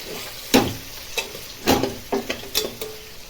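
Tomatoes stewing in a covered pan get stirred, a soft sizzle broken by several distinct spoon scrapes and knocks against the pan in an uneven rhythm, close and fairly quiet, with no talking.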